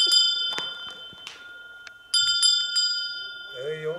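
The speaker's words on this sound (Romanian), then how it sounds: "Clopot de vaci." A cow bell in the Apuseni Mountains of Romania rings close by in several bright metallic strikes with lingering tones, and a voice speaks briefly near the end.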